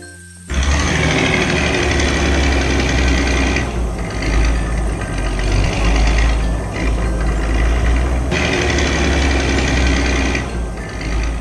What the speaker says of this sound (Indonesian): Mesin kuning ini sedang bekerja di jalan yang rusak, memperbaikinya satu demi satu.